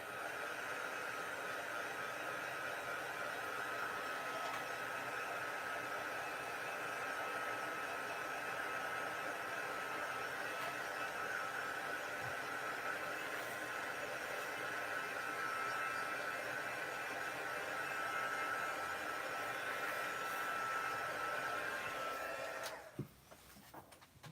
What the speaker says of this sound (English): I'm going to take my heat gun and just heat this up so I know that it's dry.